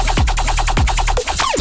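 Aggressive laser synth patch built in Serum for an electronic dubstep drop, loud rapid zapping pulses with pitch sweeps diving downward in repeating bursts, heard alone.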